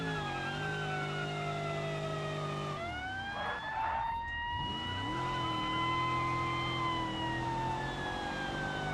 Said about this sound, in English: Let's do the police interceptor. We'll put the siren on.